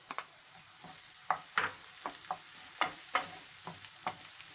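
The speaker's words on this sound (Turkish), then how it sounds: "Birazcık da böyle kavuracağım" Peppers and garlic sauté in a pan, a soft continuous sizzle broken by a dozen light scraping and tapping strokes of a spoon stirring, fairly quiet and close.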